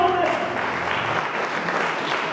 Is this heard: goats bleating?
no